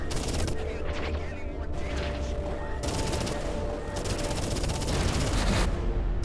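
Spaceship guns firing in the space combat game Everspace 2: rapid, continuous bursts of automatic fire with rhythmic pulsing, close and loud, stopping briefly between volleys over a steady engine-like drone.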